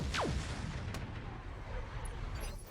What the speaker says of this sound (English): I absolutely want to use the Jaeger to continue firing on this Night Star.